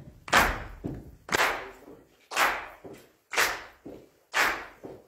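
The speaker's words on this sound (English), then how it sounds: "I want to start off with y'all just clapping your hands. And then on the second beat, stomp your feet" A church congregation claps and stomps in a slow, steady rhythm, with sharp loud claps alternating with softer thudding foot stomps, repeated about five times in the room.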